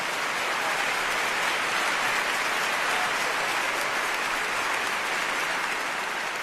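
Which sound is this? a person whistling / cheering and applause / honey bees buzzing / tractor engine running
cheering and applause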